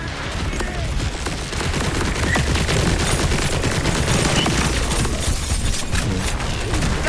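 Rapid gunfire in the video game Borderlands 4, a dense, loud, continuous burst of shots and impacts filling the whole stretch without a break.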